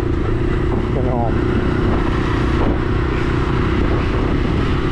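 A Brixton Crossfire XS 125 motorcycle being ridden, its engine a steady loud drone mixed with heavy wind buffeting, close and unbroken throughout.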